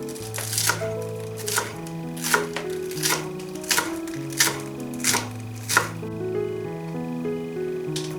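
Scallions are chopped finely with a knife on a board in steady, evenly spaced sharp strikes, about one per second, set against a gentle melodic music backing.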